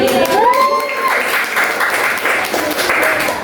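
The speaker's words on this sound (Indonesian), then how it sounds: "Oke, boleh tepuk tangan" A classroom of students claps together during a sociology micro-teaching lesson, a short burst of applause after a brief rising tone, fairly loud and close.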